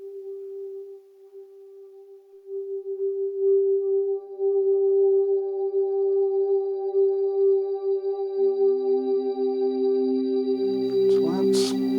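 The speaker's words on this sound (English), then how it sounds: "I've got a preset on the H3000 band delays called Space Crickets, which just gives me those high frequencies." A UDO Super 6 synthesizer pad runs through an H3000 band delay on a Space Crickets preset, with a steady sustained tone and a shimmering high-pitched chirping layer. Lower notes enter near the end and the sound swells before it stops.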